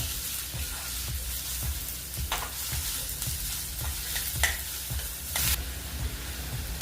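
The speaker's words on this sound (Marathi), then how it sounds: "हा कांदा आता थोडा कच्चा पण हे जाईपर्यंत म्हणजे थोडा ब्राउनिश होईपर्यंत आपल्याला परतून घ्यायचा आहे।" Onion pieces frying in a pan for akkha tur bhaji, a steady sizzle broken by regular scraping stirs of a spoon against the metal, close and continuous with no talking.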